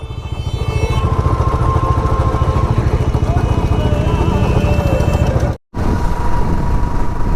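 A motorcycle engine turns over and runs with a rapid, close, loud chugging pulse and some clatter, briefly cut off for a moment before resuming.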